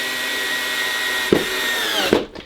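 An electric screwdriver fitted with a Phillips bit drives screws into the plastic panels of a Keter Store It Out Midi 880L storage shed: a steady, close motor whine that winds down and cuts out near the end.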